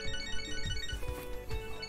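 A phone ringtone from the video game Catherine: Full Body plays as a repeating electronic melody with sustained tones, moderately loud over a low rumbling background, with no speech.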